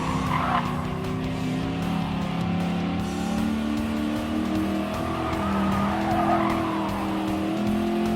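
A Ford Mustang race car in Gran Turismo Sport roars at sustained high revs, with steady engine drone and tire skidding squeals layered throughout the race.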